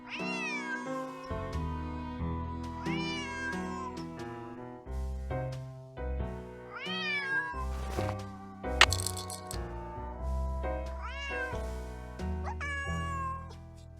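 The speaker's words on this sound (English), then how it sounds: "Otherwise, he'll just keep meowing." A cat in the Nancy Drew adventure game Secret of the Old Clock meows repeatedly, a series of clear, close meows over soft background game music.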